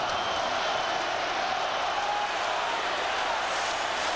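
A steady roar from the arena crowd during a 1993 NHL playoff game between Pittsburgh and New Jersey, a continuous wash of cheering and noise with no distinct peaks.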